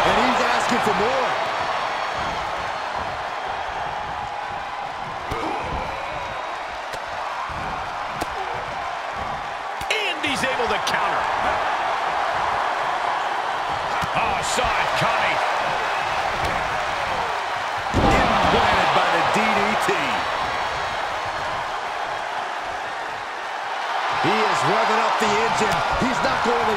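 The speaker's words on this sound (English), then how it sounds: "The sound of this crowd is deafening, and he's asking for more." Wrestling arena crowd roaring as a wrestler in The Corporation plays to the fans, a loud, sustained roar that swells in several waves along with thuds from the ring, while a commentator talks over it.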